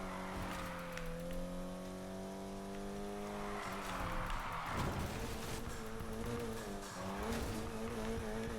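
A car drifting in the racing video game Need for Speed Heat, with a sustained engine whine that rises and falls through a shift and tires squealing through the slide, continuous and loud with no talk.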